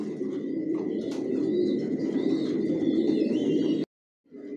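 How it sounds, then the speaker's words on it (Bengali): Racing pigeons, imported Johnson long-line breeders, coo steadily in a loft, a dense rumbling chorus with occasional chirps and a brief wing flutter, then a short silence before the cooing resumes. "টপ কোয়ালিটির কবুতর পালি,"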